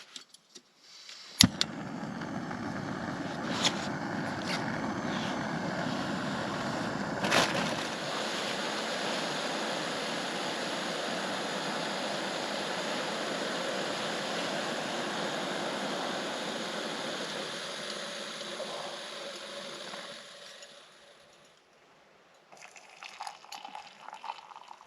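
A camping gas stove burns with a steady, close roaring hiss for about twenty seconds while heating water for coffee on an icy wild camp on Caudale Moor in the Lake District, then cuts out to near quiet.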